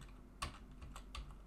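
A few quiet, close keystrokes on a computer keyboard, spaced irregularly over about a second and a half, with no voices.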